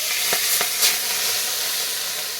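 Marinated rohu fish pieces fry in mustard oil in a wok, giving a steady, close, broadband sizzle throughout with a couple of soft clicks and no voices.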